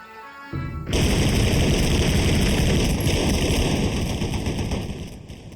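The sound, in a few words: machine gun fire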